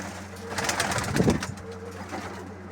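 Pigeons cooing close by, soft repeated throaty coos over a steady background hum.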